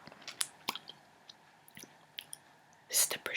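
Someone chewing pizza topped with prosciutto, with soft wet bites and small crunchy clicks close to the microphone, interspersed with quiet whispered speech.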